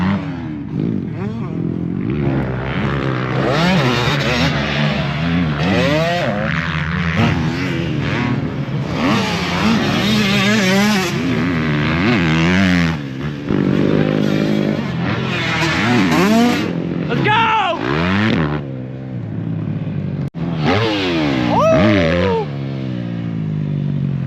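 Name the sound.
motocross dirt bikes racing on a track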